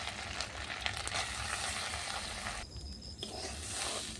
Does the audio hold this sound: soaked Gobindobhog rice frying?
yes